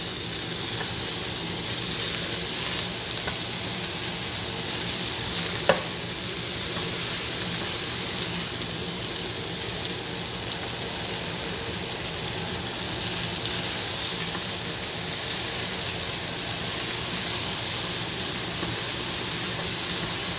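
Onions cooking in a pan over high heat, giving a loud, continuous hissing sizzle that runs unbroken from start to finish, with no clear stirring strokes and no talking.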